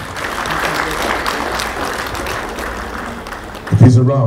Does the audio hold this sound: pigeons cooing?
no